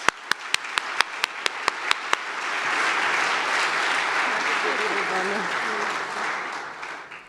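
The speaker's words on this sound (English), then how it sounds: "Please give a very warm round of applause" A few sharp, separate claps open, then a full audience at a talk with Percival Everett and Naomi Beckwith breaks into sustained applause that stays steady and loud until the end.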